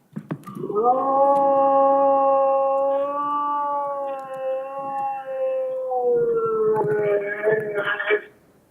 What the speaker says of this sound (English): the known dog sound